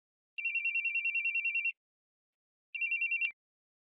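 A telephone rings indoors with a bright electronic trill, one long burst followed after a pause by a shorter second burst that cuts off abruptly.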